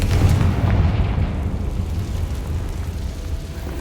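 A Confringo blasting spell in the Hogwarts Legacy video game sets off a deep, rumbling explosion that booms loudly at first and then decays into a long low roar.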